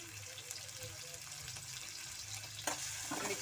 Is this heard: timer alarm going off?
no